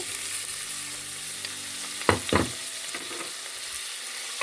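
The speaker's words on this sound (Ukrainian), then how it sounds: "І тепер відправляю сюди цибулю з часником" Onion and garlic hitting hot melted butter in a pan for cheese soup, a steady close sizzle with a brief louder crackle burst as they go in, then settling into a continuous fry.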